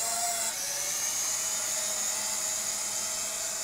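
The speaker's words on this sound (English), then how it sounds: "So let's start it up again. Down and out, and then throttle will take off." HR H9 camera drone spinning its motors up for takeoff, a close, steady high-pitched whine with no talking.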